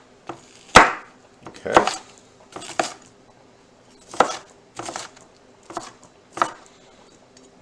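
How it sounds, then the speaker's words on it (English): Knife cutting peppers into half-inch chunks on a board, making about nine irregular thuds and clacks spread over several seconds, close and crisp, with one brief spoken word. "I'm going to go ahead and slice these in about a 1/2-inch chunks"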